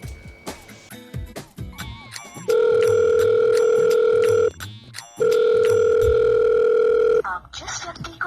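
An unanswered phone call: two long, loud, steady ringback tones, each about two seconds, separated by a pause, with clicks and background noise before and after.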